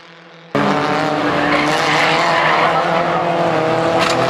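Loud, sustained tire squeal and roaring race car engine as the car skids and spins out under braking, starting abruptly and holding for several seconds.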